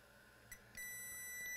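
A multimeter in diode mode probing a short at a MOSFET drain on a laptop board gives a faint tick, then a steady continuous beep that holds to the end.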